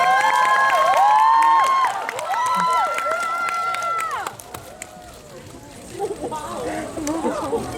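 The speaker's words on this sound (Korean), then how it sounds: "여러분 뜨거운 박수 부탁드리겠습니다." An audience at a Korean film talk event for Svaha cheers for the director and actors with shrill whistles and clapping, loud and close at first, then fading into scattered crowd noise.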